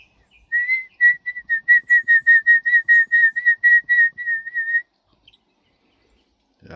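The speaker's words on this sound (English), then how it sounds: "The singers of nature, you know, the birds." A single bird sings a steady series of about twenty clear, evenly spaced whistled notes for several seconds, loud and close, then stops, leaving near silence.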